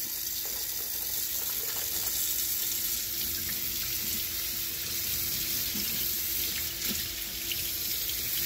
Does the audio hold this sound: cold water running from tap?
yes